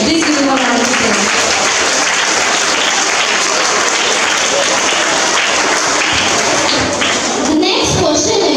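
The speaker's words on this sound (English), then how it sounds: "Please give him a round of applause." Sustained applause from a crowd at a quiz during a Van Mahotsav 2024 event in India, dense steady clapping filling the whole stretch at a loud, even level.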